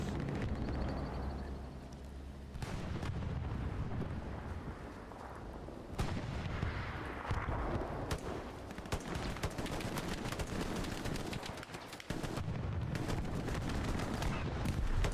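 Battlefield of the WWII video game Hell Let Loose, with steady rifle and machine-gun fire and deep artillery booms rolling at varying distances, a dense continuous barrage punctuated by sharp reports.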